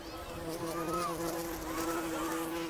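Wasps buzz with a steady, droning hum that swells and fades slightly as they fly close, with faint talk in the background.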